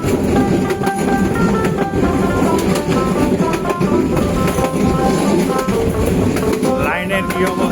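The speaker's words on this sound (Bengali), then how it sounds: "আজকের বিজয় এক্সপ্রেস চলতেছে ময়মনসিংহ জামালপুর পর্যন্ত এইভাবে যাবে" The Bijoy Express passenger train rolls along rails toward Mymensingh and Jamalpur, a loud, continuous rumble with rhythmic clickety-clack of wheels over joints, heard from inside the moving carriage.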